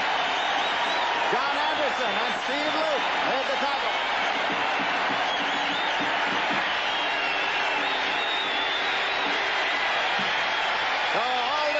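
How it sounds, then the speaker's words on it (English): A packed Lambeau Field crowd roars and applauds steadily for the Green Bay Packers defense at an early-1980s Bears–Packers football game, a dense, continuous wash of cheering with a voice calling over it. "cheering is for the Green Bay defense here at Lambeau Field."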